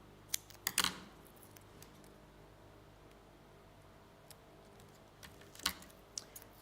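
Paper craft die cuts being trimmed with scissors: a quick cluster of close, crisp snips near the start, a long quiet stretch, then another short burst of cuts, all faint and without talk.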